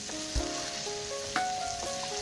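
Spice masala with chilli powder and salt frying in a pan as it is stirred, a steady close sizzle with a couple of brief scrape knocks from the stirring spoon.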